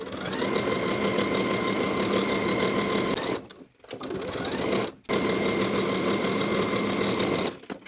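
A sewing machine stitches the inseam of lined cigarette pants, running loud and steady with a rapid mechanical hum, pausing briefly twice and then restarting. No one speaks.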